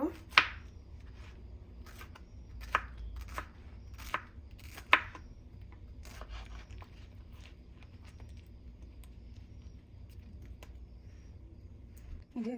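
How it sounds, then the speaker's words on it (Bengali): A knife chops mango into small pieces on a board in a home kitchen, a run of sharp, close, quiet taps at uneven intervals that thin out and stop toward the end. "তো আমি ছোট ছোট সাইজ করে কেটে নেব"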